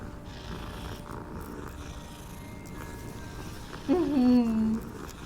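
A cat being petted in the Hogwarts Legacy video game purrs softly in a low, steady rumble under a quiet background hum. A brief, louder voiced tone rises near the end.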